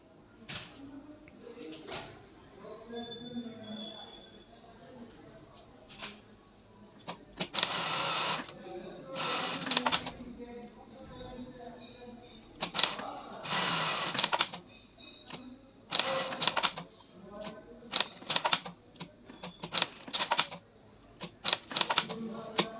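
Sewing machine stitching polar fleece gloves, small stitches between the fingers; several loud bursts of rapid mechanical running separated by pauses, alone without talk.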